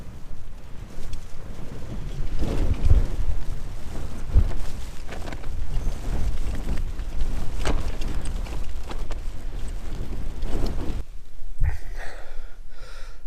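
Strong wind buffets a camping tent at Yes Tor on Dartmoor, a loud, continuous roar with gusting surges and heavy low rumbling flapping against the fabric, then it drops away near the end.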